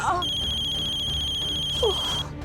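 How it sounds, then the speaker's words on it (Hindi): A telephone ringtone plays steadily, a sustained electronic tone that cuts off near the end, while voices talk over it in a household scene from a Hindi family sitcom. "ज्योति, वंदना को फोन कर।"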